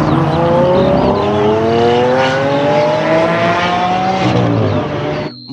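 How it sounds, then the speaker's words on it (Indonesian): A toy race car revs loudly and close, its whining engine pitch climbing steadily over several seconds before cutting off abruptly, with no speech over it. "Ada mobil balap."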